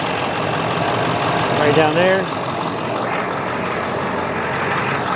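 A truck engine with a newly installed sensor idles steadily from a cold start, a close, even rumble that fills the whole clip while someone talks briefly over it.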